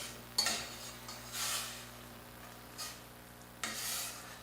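A spoon working through a tangerine juice mixture in a pot, with a few soft scraping strokes and light clinks at a steady, unhurried pace, quiet and close with no speech.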